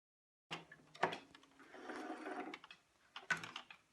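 A sewing machine runs a straight stitch on fabric, going forwards and then in reverse: quiet mechanical whirring and clacking in a few short bursts, close and fairly soft, with no talking.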